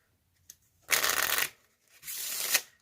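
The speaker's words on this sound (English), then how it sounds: "the spectator could shuffle them up all they want to" A deck of playing cards is shuffled by a spectator before a card trick: two close, crisp riffling bursts, each about half a second long, separated by a short pause.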